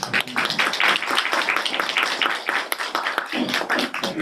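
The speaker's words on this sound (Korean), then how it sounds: "역시 마찬가지 박수로 환영." Audience applause at a university graduate school admissions information session, welcoming a professor with steady, dense clapping from many hands that lasts the whole few seconds without talk.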